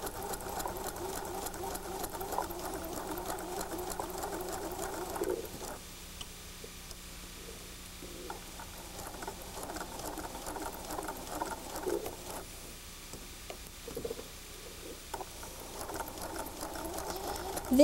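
A sewing machine stitches quilt seams, a quiet rapid mechanical patter that runs steadily with short pauses, close by and fairly faint.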